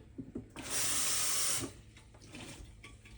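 Water runs from a tap into a cooking pot for collard greens in one steady hissing gush lasting about a second, with faint kitchen clatter before and after and no talk.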